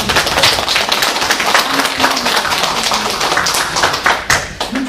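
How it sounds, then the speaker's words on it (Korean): Clapping from an audience at a Korean coastal trail guardian training session, dense and continuous for about five seconds, fairly loud and close, with uneven individual claps standing out near the end. "다시 한번 박수 부탁드립니다"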